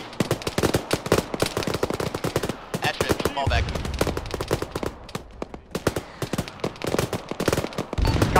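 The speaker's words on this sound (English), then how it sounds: "Oh shit! Auto cannon, get cover." Rapid bursts of BMP autocannon and rifle fire in an Arma battle, dense loud cracks in quick volleys from near and mid distance, continuing almost without pause, with brief radio-style voices underneath.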